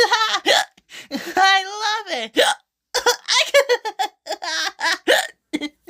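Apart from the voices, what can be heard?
hiccups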